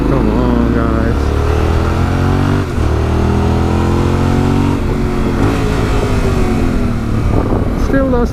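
Yamaha Ténéré 700 motorcycle ridden in second gear on a mountain road, its engine droning loud and close with rising and falling revs and wind noise throughout.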